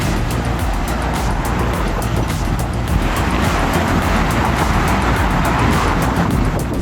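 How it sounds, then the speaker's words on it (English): Dense car traffic on the Golden Gate Bridge roars continuously and loudly, a steady wash of tyre and engine noise with no pauses. "Traffic on the Golden Gate Bridge is crazy busy and needs special management."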